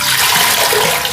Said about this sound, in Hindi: 2 से 3 गिलास पानी डालना है।